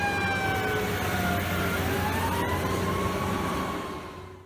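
A loud fire truck siren wails continuously, its pitch gliding up and down, close and steady before fading slightly at the end.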